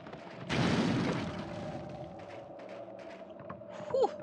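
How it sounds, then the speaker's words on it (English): A sudden booming explosion with a rumbling tail, followed by smaller bursts and a faint electronic tone, like game sound effects. "that was a lot of explosions."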